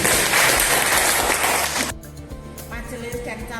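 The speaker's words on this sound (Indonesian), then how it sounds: "Tepuk tangan untuk Pak Gatot." Applause from an audience for Pak Gatot at a church elder candidates' testimony gathering, a dense loud burst of clapping that stops abruptly near the two-second mark, leaving quieter room sound.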